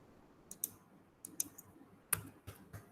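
Keys on a laptop keyboard with some keys not working are tapped in a few scattered, sharp clicks, close and fairly quiet in a still room.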